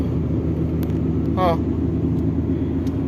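A car engine drones steadily with a continuous low road rumble while driving in auto mode, heard from inside the cabin, with a brief chirping sound partway through.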